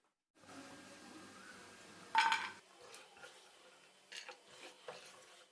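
Fried cashews and almonds in a cooking pot are tipped into another vessel. Soft scraping of a metal spoon is broken by one sharp clatter of pot and utensil midway, then a few lighter clinks and scrapes.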